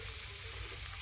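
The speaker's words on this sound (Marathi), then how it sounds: "तेल टाकलेलं आहे, कांदा टाकलाय, तर कोबी टाकते, शिमला मिरची टाकते, परतून घेते ते." Onion, cabbage and capsicum fry in oil for veg fried rice, giving a brief, even, steady sizzling hiss close to the pan.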